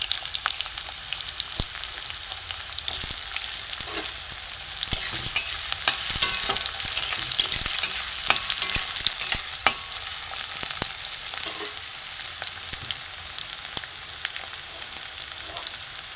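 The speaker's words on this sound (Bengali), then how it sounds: "পেঁয়াজ কুচি দিয়ে দেবো" Chopped onion and garlic fry together in oil in a wok, a constant bright sizzle with scattered crackles and clicks of stirring, close up and steady, without any speech.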